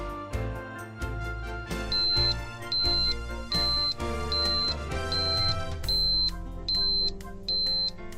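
A regular series of high electronic beeps from an Oldham MX43 gas detection controller alarm sounds at a steady pace over layered background tones, about eight beeps in a row.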